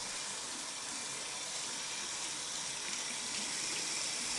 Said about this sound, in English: Adjust water to a warm temperature and thoroughly wet hands